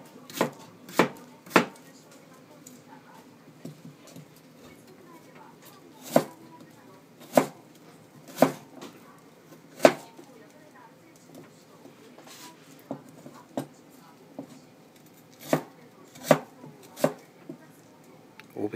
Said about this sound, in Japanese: 適当な大きさに刻んでいきます